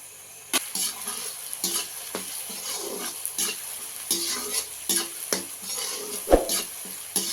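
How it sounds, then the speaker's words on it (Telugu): Tomatoes and green chilies frying and being stirred in a pan for mutton curry: a steady oil sizzle broken by repeated spoon scrapes and clinks against the pan, close and fairly loud, with no talking. "ఇది బాగా వేగిన తర్వాత మిగతా టమోటా పచ్చిమిరపకాయలు ఇవన్నీ వేసుకొని ఒకసారి కలుపుకుందామండి"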